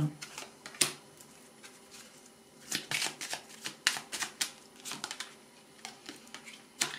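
Tarot cards being shuffled and drawn at a reading, quick close riffles and soft slaps of card on card in irregular bursts, fairly quiet.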